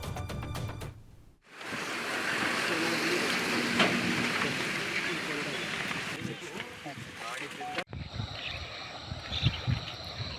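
Steady monsoon rain in Raichur, Karnataka, pours down in a dense, continuous hiss, briefly broken by short cuts, with low murmurs underneath.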